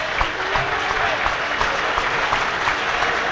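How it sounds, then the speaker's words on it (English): Football crowd at Edgar Street, Hereford, for Hereford against Kidderminster Harriers, applauding as the teams come out: dense, loud, continuous clapping from a large stadium crowd with scattered cheers. "It's a huge crowd here at Edgar Street this afternoon"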